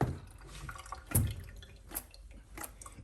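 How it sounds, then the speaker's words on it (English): A washed washable air filter is slung to throw water off it, giving a few quick splattering drips and wet flicks in short bursts, fairly close and without talk. "I'm going to sling the water out of this"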